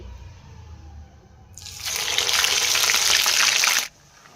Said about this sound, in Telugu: అల్లం వెల్లుల్లి పేస్ట్ వేసిన తర్వాత ఎలా పొంగుతుందో